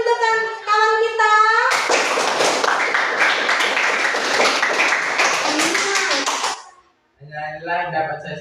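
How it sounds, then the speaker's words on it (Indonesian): A group in a room claps for a presenter after a short talk on anti-corruption, a burst of dense applause lasting about five seconds, with speaking voices just before and after. "Tepuk tangan untuk kawan kita."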